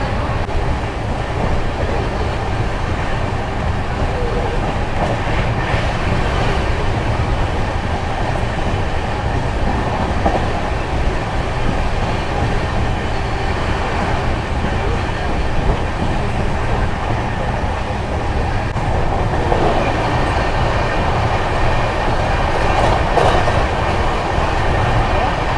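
MGR Chennai Central–Ashokapuram Express running at around 120 km/h, heard from inside as a steady loud rumble with wheel clatter and rail noise throughout, brief rattling bursts along the way, with no talk.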